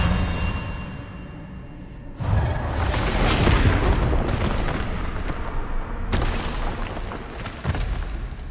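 An Expelliarmus spell goes off in the video game Hogwarts Legacy, a loud booming blast that rumbles for a few seconds, then a second burst follows.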